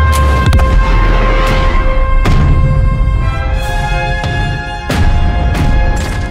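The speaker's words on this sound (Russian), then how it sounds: "Устрашающий выстрел «Авроры» возвещает о начале новой эры" Cruiser Aurora's cannon firing in the video game Раскалённый хаос 1917, set during the 1917 storming of the Winter Palace, several sharp heavy booms with rumbling tails over dense continuous battle noise, no talk.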